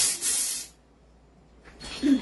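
Short spray bursts onto the unit during an unboxing review: a hissing spray at the start, a pause of near silence, then another hiss near the end.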